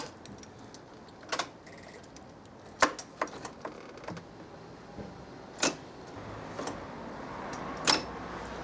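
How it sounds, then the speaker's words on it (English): A Honda Dio 50cc scooter with a dead battery gives a run of sharp, irregular clicks as the ignition is tried, about eight distinct ticks spread over several seconds against a quiet background. "It is clicking sound"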